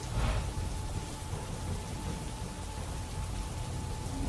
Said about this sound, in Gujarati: અંકલેશ્વર જીઆઈડીસીના વિવિધ વિસ્તારોમાં વરસાદ વરસ્યો